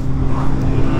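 A speeding car rushing past a Kawasaki Z750 motorcycle on the road, a loud, close roar of engine and wind noise lasting about a second, with no speech.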